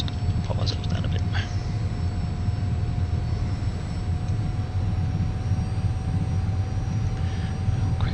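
An F-86 Sabre jet taxiing in the DCS flight simulator gives a steady, even engine roar with a constant whine layered on top, heard from the cockpit, with faint clicks and a voice briefly present.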